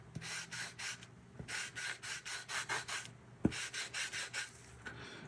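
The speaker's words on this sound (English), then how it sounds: "I'm gonna take that rag again, soak it, kind of get off some of the excess there" A rag soaked in TransTint dye stain wipes back and forth across a maple guitar body, giving a steady series of close, rhythmic rubbing strokes with a few sharp taps between them.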